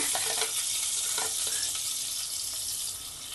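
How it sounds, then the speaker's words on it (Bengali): Tomato goes into hot oil with fried cumin, chilli and ginger, setting off a loud, dense, continuous sizzle that hisses steadily throughout. "এবার টমেটোটা দিয়ে দিচ্ছি"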